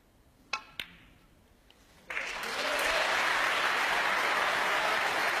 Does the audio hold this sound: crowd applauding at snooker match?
yes